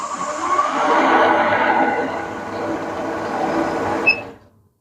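A Shopsmith woodworking machine set up as a drum sander runs at 2,500 RPM, giving a steady, fairly loud motor whir that holds for about four seconds and then quickly winds down to silence.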